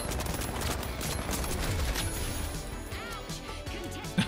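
Rapid gunfire rattles continuously in THE FINALS as floating boxes are shot, a dense, loud fusillade that runs the whole stretch with a crash near the end.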